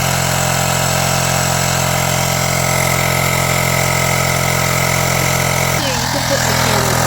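Portable electric air pump inflating a flat motorcycle tyre, running as a steady loud motor drone with a pitch change near the end, while people talk over it.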